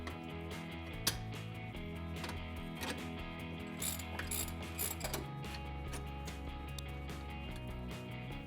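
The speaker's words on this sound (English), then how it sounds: "we have 2 mounting bolts for the A-arm. We're going to take those out" Ratchet wrench clicking as mounting bolts are removed from the A-arm of a Polaris UTV, a continuous rapid ratcheting rattle, close and steady, with occasional louder metallic knocks and no talk.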